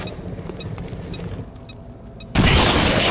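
A bomb explodes in XCOM 2, a sudden loud wide blast that cuts in after quieter gunfire-like taps and mechanical clicks and then roars on until the end.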